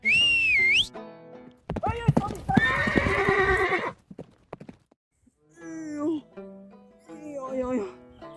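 In the game Red Dead Redemption 2, a horse gives a loud, shrill whinny, then hooves clip-clop and further snorting neighs follow in bursts with short pauses between.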